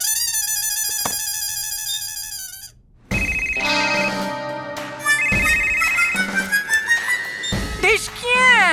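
Electronic phone ringtone trills in a repeating pattern, loud and close, then cuts off and gives way to cartoon music and sound effects in an animated Hindi comedy.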